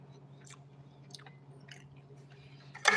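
Onions being chewed and eaten during a mukbang, soft close-up mouth sounds repeating over a low steady hum, with a sharper crunchy burst right at the end.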